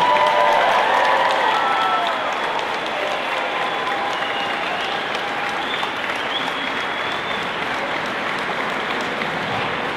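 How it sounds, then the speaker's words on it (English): A large crowd applauds graduating high school students at a 2022 commencement ceremony, dense, steady clapping that fills the full stretch without pause. "let's give a big round of applause to all our graduates"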